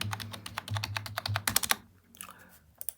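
Fingers typing an Aadhaar card number on a computer keyboard, a quick run of close, crisp key clicks, then a brief pause and a few final taps.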